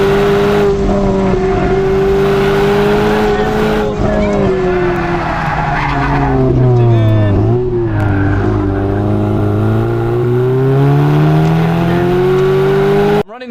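An Audi S3 rips around a race track, its engine loudly revving and rising and falling through gears while tires squeal and skid, close and continuous throughout.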